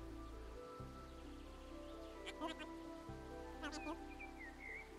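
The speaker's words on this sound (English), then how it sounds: "Ooh, it's raining. I don't know if I've seen it rain in this game before." Rain falls in the video game Calico as a steady, soft hiss that runs the whole time beneath gentle background music, with a few brief chirping sounds.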